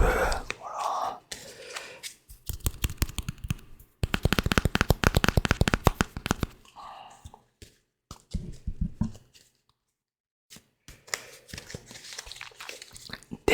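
A deck of cards being shuffled close up, in several quick riffling bursts separated by pauses, with soft whispering in between.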